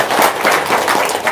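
Audience applause with many hands clapping, a dense, steady burst of claps filling a short stretch, close and fairly loud.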